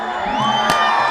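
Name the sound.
soccer crowd cheering after championship win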